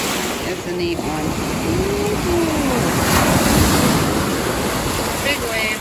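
Waves washing onto the Lake Michigan shore at Kewaunee, Wisconsin, on a foggy day make a steady, full roar with gusts of wind noise, while people talk now and then over it.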